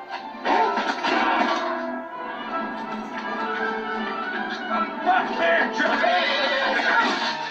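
A horse in a film scene neighs loudly and at length, its whinny rising and falling through a dense stretch of sound that runs for several seconds.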